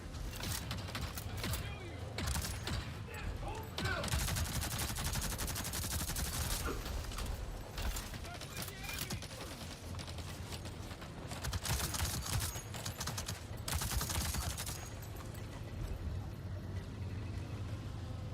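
Rapid bursts of video game gunfire on the alien world of Pandora, dense and continuous over a steady low mechanical drone, with occasional talk layered underneath.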